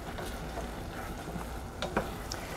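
Risotto rice cooking in stock in a pot while being stirred, a steady soft bubbling sizzle with faint scraping and a few light clinks, close and continuous.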